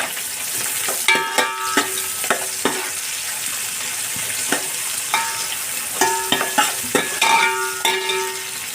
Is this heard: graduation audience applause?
no